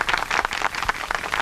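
Brief burst of hand clapping from a small group welcoming a new association president with a flower garland, lively and uneven, close by, with no voices.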